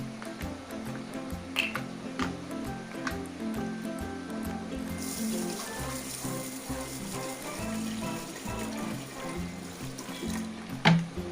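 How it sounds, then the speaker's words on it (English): Rice being washed by hand with water in a rice cooker pot, a steady close wet swishing and squishing with scattered drips and clicks, continuing for several seconds without speech. "And you wash it with water."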